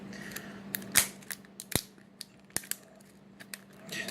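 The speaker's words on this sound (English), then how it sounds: "It's got like a little perforated line, and it does not want to tear the way it's supposed to." Packaging torn slowly along a stubborn perforated line, heard close and quiet as a series of sharp ripping snaps and crackles spread irregularly through a hushed room.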